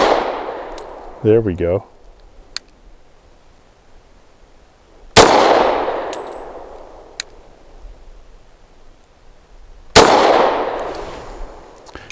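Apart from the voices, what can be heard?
Taurus TH45 pistol shots fired double action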